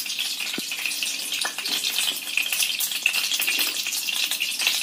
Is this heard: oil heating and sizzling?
yes